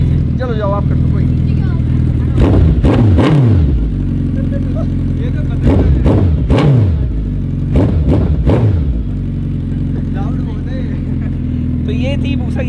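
A Suzuki Hayabusa superbike idles loudly nearby with a steady throbbing engine note, punctuated by several sharp throttle blips and revs that rise and fall in quick bursts.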